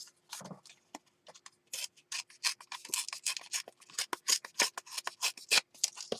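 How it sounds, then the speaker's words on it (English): A paper paint chip being torn by hand, heard as a series of crisp, close ripping and crinkling bursts of varying length, alone with no talk. "Let's see if I can tear this paint chip."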